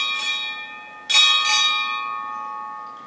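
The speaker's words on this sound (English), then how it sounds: "Time orderly, strike 4 bells." A ship's bell rings at a military retirement ceremony in two quick pairs of strikes, four clear metallic tones in all, with a long shimmering ring fading after.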